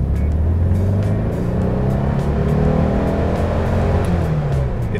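Rusty 1965 Volkswagen Beetle with a 40 horsepower engine pulling away under steady, loud engine drone that rises and shifts pitch as it accelerates, running throughout with no talk.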